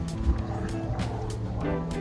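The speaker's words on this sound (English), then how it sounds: "A little plane going over." A small light aircraft drones overhead at a distance, a steady low hum running through the whole stretch with faint background noise.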